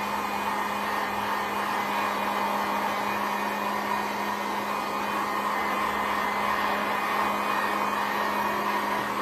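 A handheld hair dryer blows steadily and loudly over a freshly screen-printed piece, a continuous even whoosh with a faint hum and no breaks, no talking.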